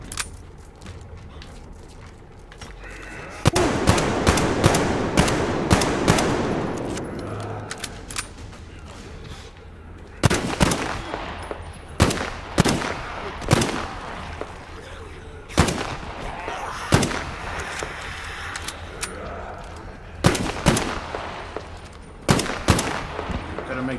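Gunfire in Metro Exodus: bursts of sharp shots crack repeatedly at close range, some in rapid clusters, separated by brief pauses and set over low game ambience.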